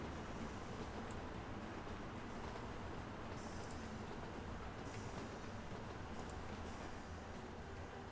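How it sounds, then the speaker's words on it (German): A train arriving and then pulling away again in the railway strategy game Train Fever, a steady, even rumble of rolling cars holding at constant loudness for the whole stretch, with no talking. "Zug kommt, aber Zug fährt wieder weg"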